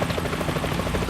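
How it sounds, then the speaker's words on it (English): Helicopter rotor chopping in the Metal Gear Solid 2 video game, a rapid steady thudding beat that stays close and constant through the short moment. "Is that a chopper I just heard?"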